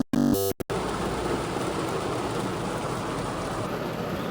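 Heavy rain pouring down on a car, a dense steady hiss of drops drumming on the roof and body, heard from inside after a few brief clicks at the start, with no talking.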